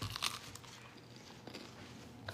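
Someone chewing close to a phone microphone, with a couple of soft crunchy bites near the start and faint mouth sounds afterward, quiet and with no talking.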